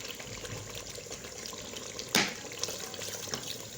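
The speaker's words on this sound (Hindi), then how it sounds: "पानी डालेंगे" Water poured into a cooking pot of fried meat and potatoes for deghi aloo gosht: a steady soft rushing stream with one brief louder splash partway through, and no talk.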